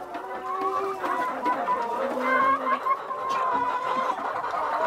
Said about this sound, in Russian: как курочки поют